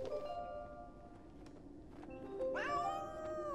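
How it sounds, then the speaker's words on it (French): A cat meows in a game set in underground trenches, a short cry early on, then a louder, longer rising meow near the end over a low ambient rumble. "Ah, c'est reparti pour le chat."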